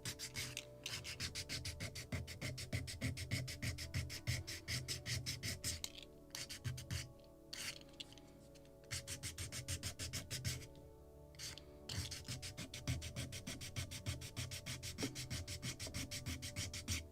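Sandpaper rubbing over a wooden part of a Midwest Muscongus Bay lobster smack model boat kit, steady rapid back-and-forth scratching strokes close by, with two short pauses between bursts.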